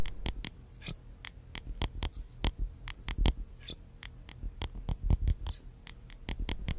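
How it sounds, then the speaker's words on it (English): Close, crisp ASMR haircut scissors snipping in quick irregular runs of sharp clicks with small rustles between them. "Haircut."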